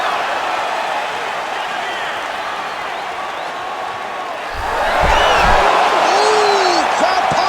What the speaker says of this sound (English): crowd pops as he gets out again